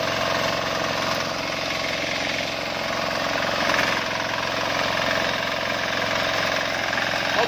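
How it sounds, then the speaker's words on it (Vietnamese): A Sakura 188 diesel tiller with its rotary cultivator attachment churns soil, the engine chugging loud and close in a constant knocking rhythm for the whole stretch, with no talking. "giờ mình sẽ lắp phay để phay nó phẳng cái đất này ra"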